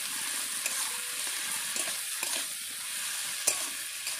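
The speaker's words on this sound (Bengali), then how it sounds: "সমস্ত মশলাগুলোকে খুব ভালোভাবে নেড়ে নেব।" Spices for a Bengali jackfruit and rohu fish curry, including chili paste, torn green chilies and coriander powder, sizzle steadily in a pan while being stirred, with occasional soft scrapes and clicks. No one speaks.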